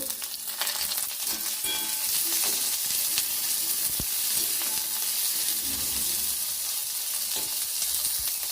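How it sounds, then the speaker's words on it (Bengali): Tomatoes sizzle in hot oil with fried onions in a pan, a steady loud frying hiss with occasional stirring scrapes throughout. "এর মধ্যে টমেটোগুলো দিয়ে দেব"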